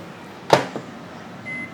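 A microwave oven starts up to cook scrambled eggs, giving a sharp click or thump, a short second knock, then a quiet steady hum, with a faint high beep near the end.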